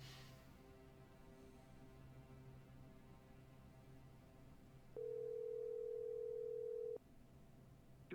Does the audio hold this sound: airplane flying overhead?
no